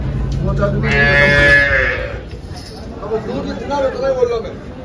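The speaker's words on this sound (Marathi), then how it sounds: "ही काँक्रेज जातीची गाय आहे." A Kankrej cow gives a long, loud, close moo at a busy Dhule Gir cow market, followed by people talking and background chatter.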